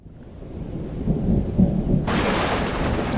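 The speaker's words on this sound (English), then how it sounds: "this is the second time that we've been up to just keep an eye on a lightning storm that's coming through" A night thunderstorm rolls in near a small island in the Indian Ocean, deep rumbling thunder building and swelling before heavy rain suddenly bursts in, loud and close, with no voices.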